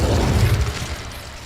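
An Incendio fire spell is cast in Hogwarts Legacy, a short, loud burst with a heavy low boom that decays over about a second.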